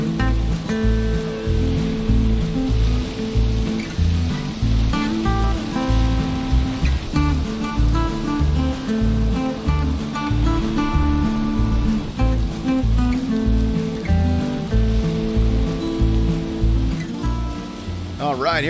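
Rain falling in the video game Valheim, a steady hiss of downpour under a loud, busy game soundtrack of plucked notes and rhythmic low thumps that runs throughout.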